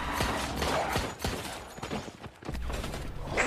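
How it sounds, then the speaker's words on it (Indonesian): Several sharp gunshots crack in a quick, irregular burst over a busy, noisy background in the film Resident Evil: The Final Chapter, loud and close, with a final blast at the end. "Dengan tembakan Doc melumpuhkan Siberus itu"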